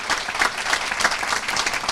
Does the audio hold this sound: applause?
yes